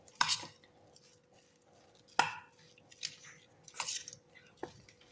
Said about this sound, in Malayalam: ആവശ്യത്തിന് ഉപ്പ്, ഇനി കോൺഫ്ലവർ പൊടി. നല്ലോണം മിക്സ് ചെയ്യാം.